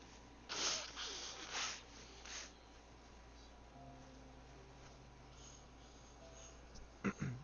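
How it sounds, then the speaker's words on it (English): A person blows their nose in a few faint, breathy honking bursts early on, then a pause and one more short blow near the end, in an otherwise quiet room. "hold up, I need to blow my nose."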